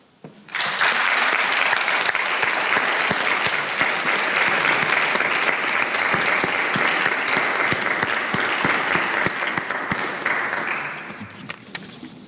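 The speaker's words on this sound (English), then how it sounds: "acknowledge their support with a hearty round of applause" A large university graduation audience bursts into a hearty, sustained round of applause that swells quickly, holds as a dense roar of clapping for about ten seconds, then tapers off into a few scattered claps.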